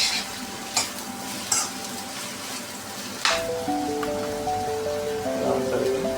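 Chopped onions are stirred through hot oil in a pan for an egg roast, giving a steady frying hiss broken by a few sharp spatula scrapes, the sizzle growing fuller partway through.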